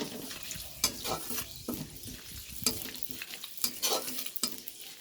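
Fenugreek seeds and grated ginger tempering in hot oil in a home Bengali kitchen, crackling and sizzling up close as a spoon stirs and clinks, with a faint splash of water now and then and no talking.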